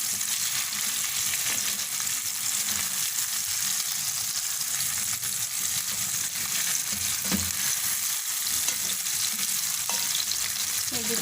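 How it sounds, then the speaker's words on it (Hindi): Chicken koftas fry in oil in a pot, giving a continuous close sizzle with faint bubbling and an occasional light knock from a utensil. "जितनी देर में ये कोफ्ते इसमें फ्राई हो रहे हैं"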